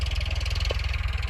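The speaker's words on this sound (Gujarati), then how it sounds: "ત્રીજા લોમાં હાલે છે ટ્રેક્ટર ટાણે" A new 2024 Eicher 551 tractor engine running in third gear while ploughing a field, a steady throbbing low diesel chug heard close for a brief moment.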